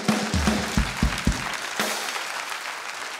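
Audience applause on a Czech television talk show, a patter of claps that is denser at first and then thins out into scattered, quieter clapping.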